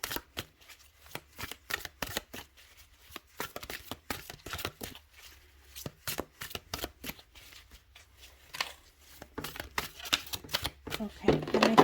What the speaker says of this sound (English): So I'm just going to shuffle your cards.